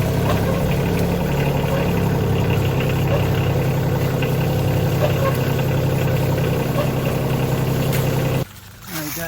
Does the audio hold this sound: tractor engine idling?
yes